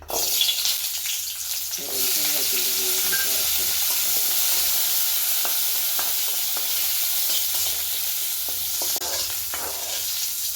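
Shallots fry in a pan with dried red chillies, a loud, continuous sizzle and hiss that runs throughout, close and steady, with occasional soft scrapes of stirring.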